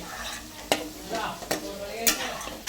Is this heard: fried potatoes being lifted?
yes